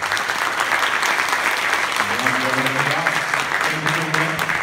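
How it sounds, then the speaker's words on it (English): Audience at a concert applauding, a dense steady clatter of many hands clapping throughout, with some crowd noise and low tonal sounds rising beneath it. "Give them a round of applause"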